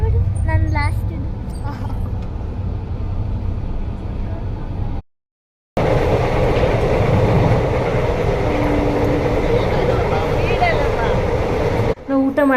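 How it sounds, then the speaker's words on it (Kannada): Inside a moving train carriage, a steady loud rumble and rattle continues under people talking, broken by a brief drop to silence partway through. "ನಾವು ಊಟ ಮಾಡ್ತಾ ಇದ್ದಾಗೆ ರೈಲು ಕೂಡ ಶುರುವಾಯಿತು ಹೊರಡೋದಕ್ಕೆ"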